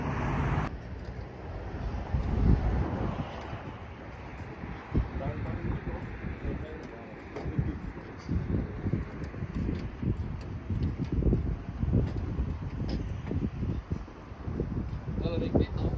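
Gusty wind buffets the microphone outdoors, a steady low rumble running the whole time with bursts of stronger gusts.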